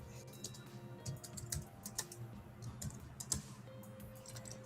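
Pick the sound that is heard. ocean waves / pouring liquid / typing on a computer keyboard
typing on a computer keyboard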